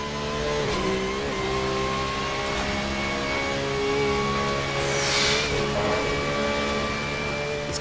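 A GT3 race car engine revs and pulls hard on the Nordschleife in the Assetto Corsa racing game, a loud, continuous engine note with rising and falling pitch through gear changes and a brief whooshing burst midway.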